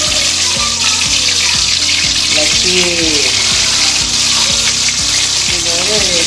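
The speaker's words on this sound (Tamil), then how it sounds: "இப்போ நம்ம இந்த சிக்கனெல்லாம் பொரித்து எடுத்துக்கிறோம்" Chicken pieces frying in a wide kadai of oil give a loud, steady sizzling hiss throughout, with a rhythmic thumping and faint tonal sounds underneath.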